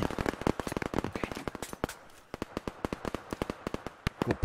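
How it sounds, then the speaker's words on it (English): Rapid gunfire in the shooter Operation Harsh Doorstep, dozens of sharp cracks in quick bursts, a brief lull midway, then more close and distant shots. "Where are these shots coming from?"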